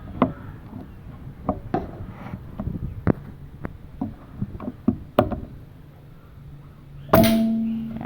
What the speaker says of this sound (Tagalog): naririnig lang natin yung kalampag ng steel plate natin pag tumatama yung pellet